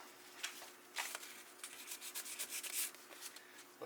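Fine sanding on a small part of an SU HS4 carburetor, a faint, close scratchy rubbing in short irregular strokes, quiet and dry with no talk.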